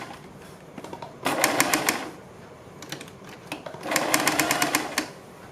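An electric sewing machine stitching a folded seam on a side-dori kurti runs in rapid, evenly ticking bursts: two longer runs and a short one between them, close and clear over quiet room noise.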